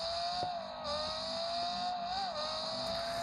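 Car engine in a driving video game with a modified car, a steady droning engine note that rises and falls slightly, loud and continuous throughout with game sounds layered on top.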